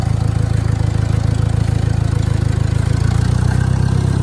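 A Ford Workmaster tractor's gas engine runs steadily nearby at a low, even idle, a continuous rhythmic chug with no voices.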